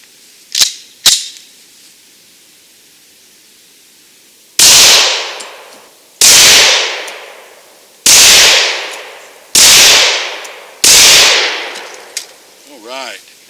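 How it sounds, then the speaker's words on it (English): A Glock 40 MOS 10mm pistol fires five 180-grain jacketed hollow-point rounds, each a loud, sharp report with a ringing decay, evenly spaced about a second and a half apart. Two faint clicks come before the first shot. "I've got 5 rounds of Hornet 8, 180 grain jacket hollow point. I'm going to put them on target and see how she does."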